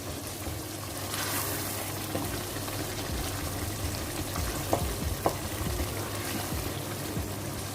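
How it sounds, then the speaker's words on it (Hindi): Spices stir-fry in a pan for chicken karela, with a steady soft sizzle and occasional clinks and scrapes of a spoon stirring. "इनको अच्छे से मिक्स कर लेते हैं और मसाले को अच्छे से भूनकर"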